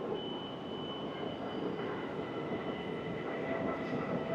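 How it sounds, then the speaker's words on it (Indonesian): At a station platform on the Prague to Berlin line, a train rolls in with a continuous rumbling roar and faint high squeals, steady and moderately distant. "Oh, ini ada kereta baru datang nih."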